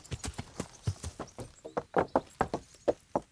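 Hooves of a horse in Kingdom Come: Deliverance clip-clop in a steady walking rhythm, a dozen or more distinct close thuds, with a faint neigh mixed in and no speech.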